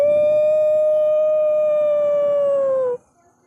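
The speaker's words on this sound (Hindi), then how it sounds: "सियार या फिर कुत्तों का रुदन अब और भी तेज बढ़ता जा रहा था" A jackal or dog howls at night in a village, one long, steady, mournful tone held for about three seconds before it cuts off abruptly into silence.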